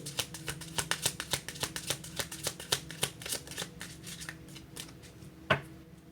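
Tarot cards shuffled in quick, crisp riffling bursts, a steady flurry of snapping card edges close by, thinning toward the end with one sharper slap as a card is drawn.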